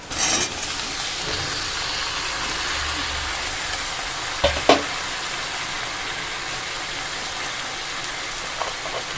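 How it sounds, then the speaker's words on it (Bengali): Pointed gourd pieces tossed into a pan of lightly fried onions and slit green chillies give a steady, close sizzle of frying in hot oil, with a couple of brief clatters midway. "পেঁয়াজটা বেশি ভাজার প্রয়োজন নেই এবার আমি পটলটা দিয়ে দিলাম"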